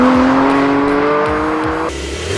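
A Porsche 718 Spyder engine revs hard up through the range with a rising, snarling tone, then cuts back sharply, close and loud.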